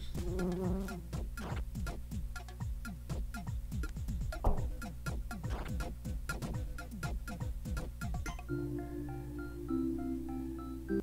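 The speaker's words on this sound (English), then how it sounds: "A single fly." A fly buzzing in the video game OMORI, heard as a fast string of whirring, zipping chirps over a steady low game tone, before quieter melodic game music takes over near the end.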